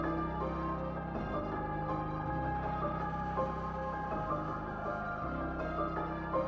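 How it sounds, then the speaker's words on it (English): An orchestral trap beat layers sustained strings, piano and bell tones drenched in reverb over a deep bass pattern that shifts every second or so, playing steadily and fairly quietly throughout. "I have strings, a piano, and some bells, and it sounds like this."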